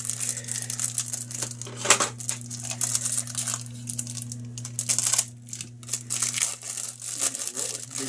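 Cardboard and plastic packaging crinkle and rustle up close as an Ason hard drive enclosure is unpacked from its box, in irregular bursts over a steady low electrical hum.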